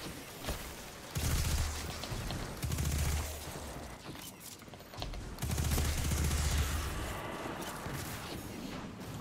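Gunfire in the video game Destiny 2, during the Deep Stone Crypt raid: loud, dense bursts of rapid automatic fire in long sustained volleys broken by short pauses, with a rumbling low-end boom throughout.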